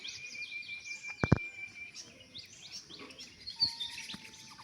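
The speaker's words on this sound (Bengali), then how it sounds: "চারিদিক শুধু পাখির ডাক" Several birds chirp and call overlapping from different directions around a rooftop garden, a steady bright chorus with a couple of sharp thumps partway through.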